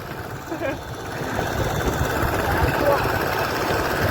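A farm tractor's engine runs steadily at a building site where a stand for a reliquary stupa is being made, a continuous mid-level motor drone with a rough, knocking texture throughout.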